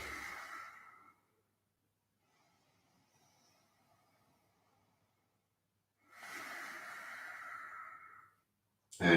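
Slow, deep yoga exhales during a home class, two long breaths each lasting a couple of seconds and separated by near silence, close and soft, with a sharper breath at the very end.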